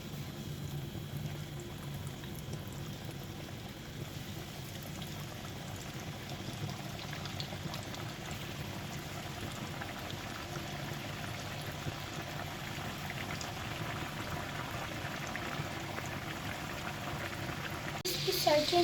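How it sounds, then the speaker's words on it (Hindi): Chicken frying in hot oil over a medium flame makes a continuous soft bubbling and hissing that stays fairly quiet and even throughout, with a brief clatter near the end. "अब मैं इसमें चिकन फ्राई कर लूँगा।"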